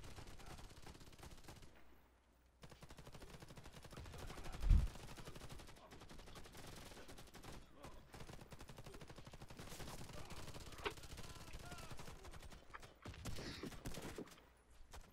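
Gunfire in the Warface online shooter game: rapid bursts and single shots crackle throughout over a dense layer of game noise, with one louder blast early on.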